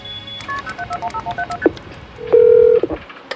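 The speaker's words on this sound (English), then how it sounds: "I picked up the phone and I dialed 911." A telephone keypad dials 911, a quick series of short touch-tone beeps, followed by a longer, loud steady tone, close and clear with no talking.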